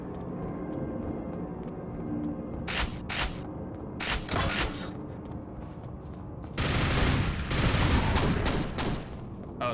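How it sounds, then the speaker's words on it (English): Gunfire from enemies in the shooter game Quake, on a Brutalist Jam 3 map, comes as sharp bursts of shots and then a denser spray of loud firing over a constant low game hum. "they're shooting through the floor at me"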